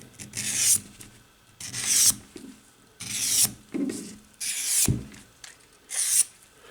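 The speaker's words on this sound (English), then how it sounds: "We're just stripping off the enamel." A steak knife scrapes enamel off copper winding wire in five rasping strokes, each about half a second long with short pauses between, close and fairly loud with no talk.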